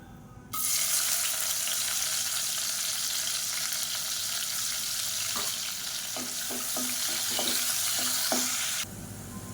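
Steady, loud sizzling of onions frying in hot oil with a bay leaf for biryani fills the clip, with a few soft stirring clicks and scrapes near the end.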